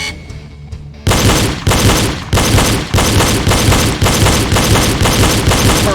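Pistol shots fired in quick pairs during a reload drill, following a double-tap rhythm. The loud, close cracks come in a rapid regular run of about ten bursts after a quiet opening second.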